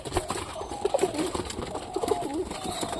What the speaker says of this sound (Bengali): কত সুন্দরভাবে দেখতে পাচ্ছ কবুতরগুলো খাওয়া দাওয়া করতেছে